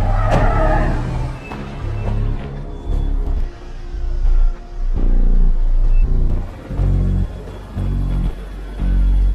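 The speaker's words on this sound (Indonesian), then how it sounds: "Setelah itu tergesa-gesa mereka mengejar mobil yang membawa Elton." A car in a film chase scene roars and revs in loud, repeated pulses of deep engine rumble as it drives off, close and forceful with no talk.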